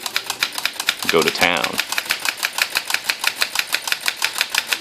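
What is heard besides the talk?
typing on a 1929 Corona Special Folding 3 typewriter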